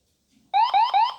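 A Jumper QX7 radio transmitter running OpenTX beeps at the 60% throttle point, sounding three quick, clear electronic tones in a row, close and alone.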